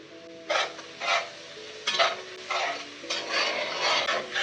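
Masala for chicken curry sautéing in a pan, with a spoon scraping and stirring in regular strokes over a soft sizzle, close and clear with no voices.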